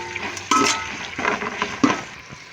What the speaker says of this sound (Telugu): ఇందులోనే అల్లం వెల్లుల్లి పేస్ట్ పచ్చివాసన పోయేంత వరకు కలుపుకోవాలి.